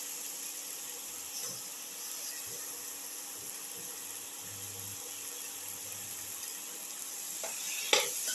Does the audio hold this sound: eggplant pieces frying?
yes